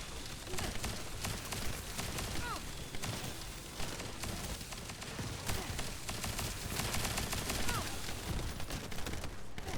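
Rapid automatic gunfire clearing a boss room in The First Descendant video game, dense continuous bursts with explosive impacts layered over game effects, loud throughout.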